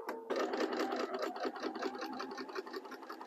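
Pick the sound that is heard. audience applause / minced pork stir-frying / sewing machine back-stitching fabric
sewing machine back-stitching fabric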